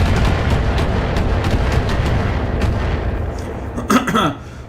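Enemy mech missile fire in the BattleTech mech video game, a dense rumbling barrage of rapid impacts and booms that fades toward the end and closes with a brief burst of louder blasts.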